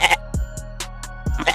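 A goat bleats close up in a few short, wavering cries with brief gaps between them, loud and clear with no talking.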